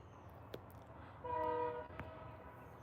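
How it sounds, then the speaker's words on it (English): A train horn sounds one sustained blast partway through in California, rising over a low rumble of rail traffic with a couple of sharp knocks before and after. "Yes, the train. How cool is that?"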